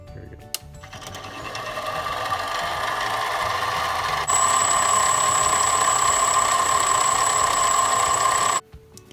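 A Harbor Freight mini lathe faces a bushing, its motor running with a steady whine and a mid-pitched cutting tone that gets louder about halfway through, then stops abruptly near the end.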